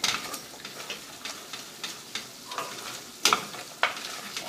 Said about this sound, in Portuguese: E aí, vamos deixar dourar bem essa farinha nesta manteiga